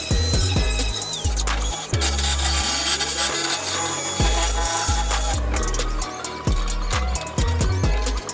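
Small notches being cut every couple of inches into a metal inner wheel well extension on an R34 Skyline GTT-to-GTR conversion, a loud, continuous grinding and rasping with repeated short bursts and pauses, close up with no talk.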